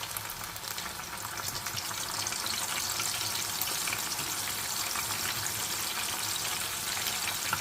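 Onions fry golden in hot oil with a dense, steady sizzle that hisses close and even throughout, with no talking.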